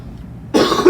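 A single sharp, close cough from a man on a podcast, bursting out of near silence with a rough second push at the end.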